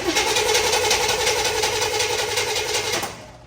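A Chevrolet Squarebody truck's engine cranks over on the starter with a steady, fast whirring rhythm close by, running without catching, then cutting off near the end.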